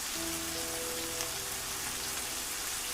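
Steady, dense rain falls at night in a tropical forest near Maya ruins, a constant hiss of drops with faint tonal hums underneath and no talking.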